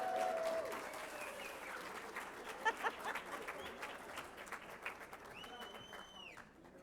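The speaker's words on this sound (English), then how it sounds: "Thank you for that very rousing, gracious, and heartfelt sitting ovation." At a business hall of fame event, an audience applauds a speaker coming to the stage, a soft, distant wash of clapping that gradually fades, with a few brief tonal sounds over it.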